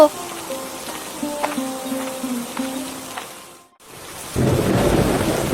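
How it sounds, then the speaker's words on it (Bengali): A tonal, voice-like passage fades to a short silence, then heavy rain bursts in, loud and close, with a deep rumble of thunder underneath. "বৃষ্টি কমার কোনো লক্ষণই যে দেখতে পাচ্ছি না"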